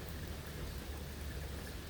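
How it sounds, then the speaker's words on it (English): Steady, fairly hard rain falling outside, a dense continuous hiss of drops with no voices, holding even and close throughout. "As you can hear, it's raining"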